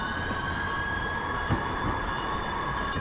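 A Minneapolis Blue Line light rail train departs with a steady rumbling roar and a sustained high metallic whine from the wheels, heard close and continuous, with one brief clunk partway through.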